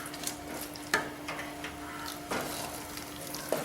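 Grated coconut being stirred in a pan, soft scraping strokes over a gentle sizzle, with a few sharper clacks of the spoon against the pan.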